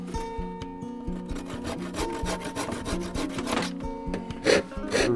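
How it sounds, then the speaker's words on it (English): Hand saw cutting through a rough sticky section of a wooden coat hook being carved, with steady rhythmic back-and-forth strokes, close and fairly loud, with no talking. "We'll need to cut that off with the saw."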